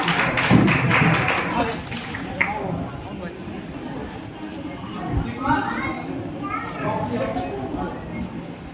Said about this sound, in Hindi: चांदनी के लिए जोरदार तालियां हो जाए